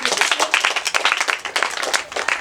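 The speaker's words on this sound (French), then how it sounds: "Applaudissez pour elle." Children in a church class clap for a girl, a lively, uneven burst of close hand claps lasting a couple of seconds.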